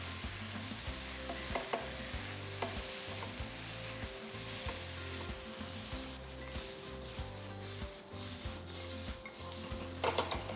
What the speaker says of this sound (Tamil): நம்ம அந்த வாழைக்காயை கேர்ஃபுல்லாக இதில் ஆட் பண்ணி ஜஸ்ட்டு ஒரு வாட்டி டாஸ் பண்ணி எடுத்துருங்க